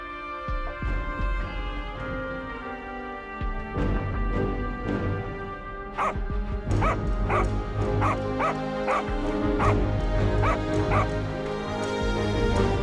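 A dog barks and yips loudly at close range while attacking, mixed with whimpers and yelps in quick irregular bursts. The sounds grow busier and more frantic in the second half.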